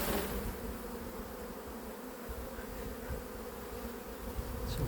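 Honeybees hum steadily around an open, struggling hive in late season, a dense, even buzz close to the listener with no voices.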